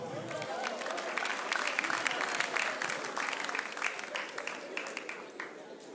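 A lively audience at a comedy performance breaks into loud, sustained clapping and crowd noise that fills the room, steady throughout with slight swells.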